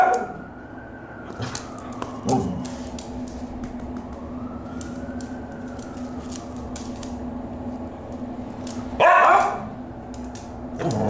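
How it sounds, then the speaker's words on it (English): A dog barks a few times, short and fairly close, with a louder burst near the end, over a steady background hum while people talk around it in a family home in Mexico. "Her dog is coming."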